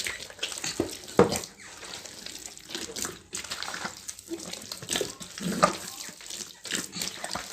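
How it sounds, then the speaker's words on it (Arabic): Water runs from a tap in uneven splashing bursts, close and fairly quiet, with a few clunks and handling noises mixed in. "ابدا احط ميه"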